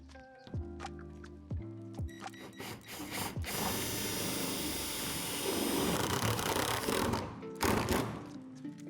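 A ratchet tightens bracket hardware on a Lifetime 7' x 12' outdoor storage shed, with a few sharp clicking strokes at first, then a longer continuous burst of close ratcheting and more clicks at the end.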